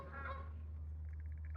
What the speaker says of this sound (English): Those geese. These two geese.